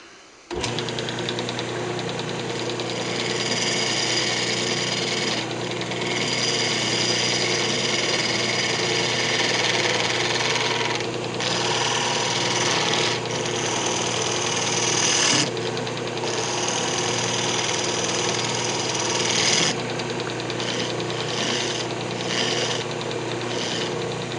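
A wood lathe spins a yew box lid with a steady, loud motor hum and whirring drone that runs continuously, with brief changes in tone as a tool touches the wood.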